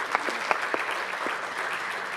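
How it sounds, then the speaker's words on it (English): An audience applauds at a recycling campaign launch event, with dense, continuous clapping from many hands filling the room at a steady level throughout. "So I think we should give them a round of applause."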